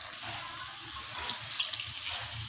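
Tap water runs steadily into a sink while a mixer jar is rinsed out during fish curry cooking, a soft, continuous splashing flow heard close up with no voices.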